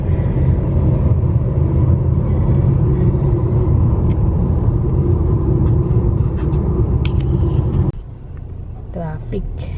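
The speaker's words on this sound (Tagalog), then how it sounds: "Traffic." Road traffic at rush hour in downtown Calgary, a steady loud rumble of car and bus engines rolling past for about eight seconds before dropping to a quieter hum with faint chirps.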